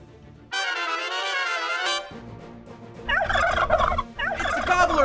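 A turkey gobbles loudly and nearby: one long, trilling, harmonic gobble, then after a short gap two rapid bursts of gobbling calls, with no voices.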